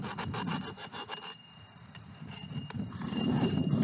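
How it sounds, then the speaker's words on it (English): Hand file rasping across the freshly cut end of a metal ground post for a greenhouse or high tunnel, repeated close back-and-forth strokes with a brief pause midway, loud and steady with no speech. "Now we'll file that down and be ready to go."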